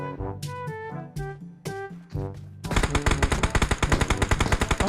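Rapid gunfire in PUBG Mobile erupts in dense bursts, loud and close, after a few seconds of sparse musical tones.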